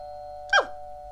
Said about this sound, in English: Oh, that was my doorbell.